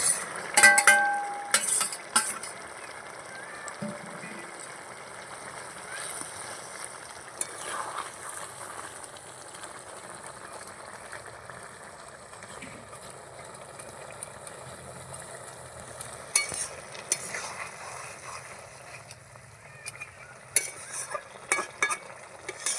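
River fish go into a pan of fish curry already at a rolling boil, giving a steady close bubbling sizzle with louder splashing bursts near the start and again toward the end, and no voices.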